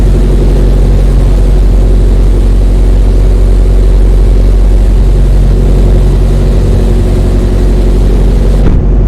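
Steady, loud engine drone of a simulated aircraft touching down in a flight simulator game, a dense continuous rumble with no talk, ending in a brief sharp change near the close.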